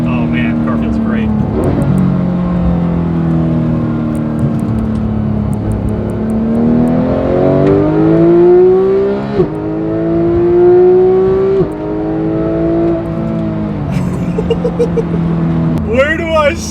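A Porsche 911 GT3 accelerates through twisty roads, its engine note rising and falling steadily through gear changes, heard from inside the cabin with someone talking over it throughout.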